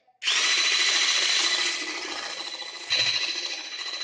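An electric whisk whirs loudly and steadily while beating eggs with sugar for a cake batter, a bright, high buzzing drone that dips slightly in pitch partway through, with a brief knock as it shifts in the bowl.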